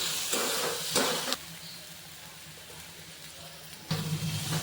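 Ginger garlic paste sautés with browned onions in a pan for a tondli vegetable dish, giving a soft, steady hiss. Louder bursts of sizzling or stirring come at the start and again near the end.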